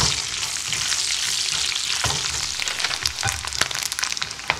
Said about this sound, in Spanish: la salchicha también de pollo y vamos siempre a sofreír